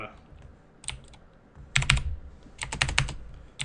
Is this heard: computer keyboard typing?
yes